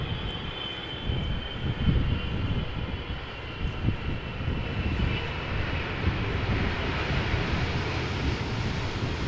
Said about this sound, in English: Air Canada flight 808 777 arriving from Toronto, Canada. 777-300 ER, 14 years old.